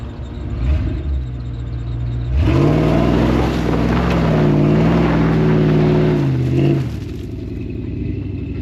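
A Ford F250 HD pickup truck drives off, its engine rising from a low idle rumble into a loud, sustained revving surge for several seconds before easing back down, heard close with no talking.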